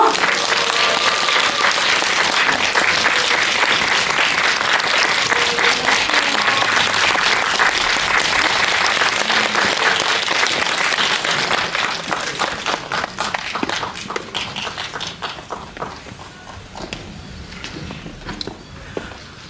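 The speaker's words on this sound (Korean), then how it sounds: "큰 박수로 받아주세요." A cinema audience at a film screening event gives sustained loud applause as an actor is welcomed onto the stage. Dense clapping holds steady, then thins and fades toward the end.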